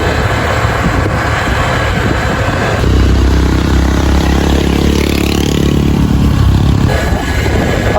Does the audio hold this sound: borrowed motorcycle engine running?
yes